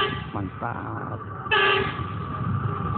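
The KUJR Arjuna inspection train passes Cimekar station in Indonesia, with a steady rail rumble and a loud horn blast sounding about halfway through, fairly close.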